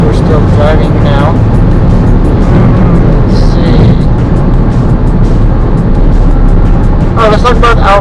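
Steady road noise of a car driving along a freeway, a loud continuous low rumble from inside the cabin, with people talking over it at the start and end.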